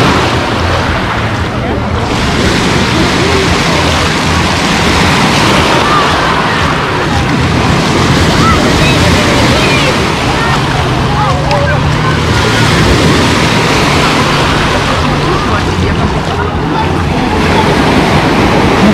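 Steady roar of ocean surf washing onto Lazurny beach in Lazarevskoye, with waves swelling and breaking continuously and wind buffeting the microphone.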